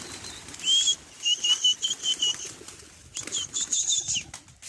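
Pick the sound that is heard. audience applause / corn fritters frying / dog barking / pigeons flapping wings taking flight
pigeons flapping wings taking flight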